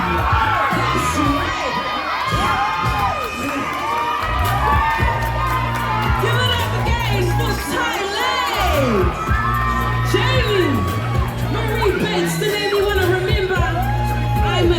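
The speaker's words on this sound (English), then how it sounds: "You got the crowd going wild" A crowd at a youth fashion show in South Auckland cheers wildly, with children shrieking, whooping and shouting over loud thumping music with a steady beat, the excited roar sustained throughout.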